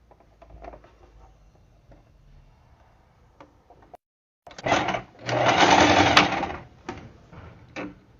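A sewing machine stitches two pieces of fabric together for a diaper and wipes holder, a few quiet clicks and handling noises followed by two close, rapid bursts of stitching.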